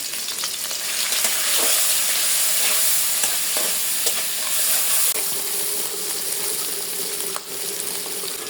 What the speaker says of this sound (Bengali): আমি এখন তেল দিয়ে দেব চিংড়ি মাছগুলো ভাজি করে নেব